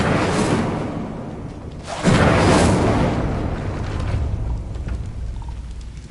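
A fire spell is cast in the Hogwarts Legacy video game, opening a gate. A sudden loud whooshing burst hits midway and settles into a sustained crackling roar.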